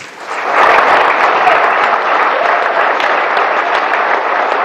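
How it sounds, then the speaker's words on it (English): Steady, dense applause from a gathering greets the Super Falcons captain at a state reception, the clapping loud and sustained throughout. "Please step forward and give him a round of applause."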